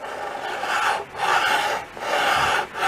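A metal file rasps across metal to flatten it, three firm back-and-forth strokes heard up close with short pauses between them.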